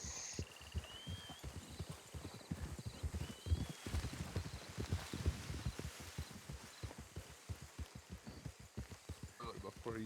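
Horse hooves clip-clopping in the video game RedM, a steady rapid run of close hoofbeats over a hissing, rain-like background with a few faint whistling tones.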